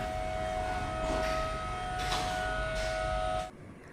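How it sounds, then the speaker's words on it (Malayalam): A steady, distant navy warning siren wails with a sustained tone and slight swells in loudness, then stops abruptly near the end. "നേവിയുടെ അവിടെ നിന്ന് സൈറൻ ഇങ്ങനെ വരണത്"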